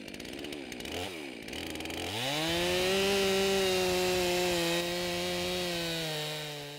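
A chainsaw revs up and cuts steadily through a log, loud and close, its engine pitch holding level after a brief sputtering start.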